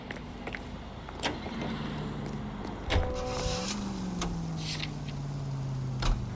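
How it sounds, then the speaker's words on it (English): A car in a video game starts and drives off, a low engine hum rising in pitch and holding steady, with a few clicks and a door-like thump along the way. "Let's get in our car and go to the dude's apartment."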